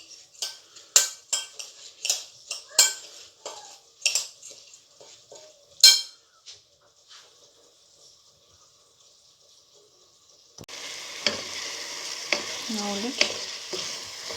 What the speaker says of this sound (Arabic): نروح نزيدو لي تقلالي شويه مع البصل واللحم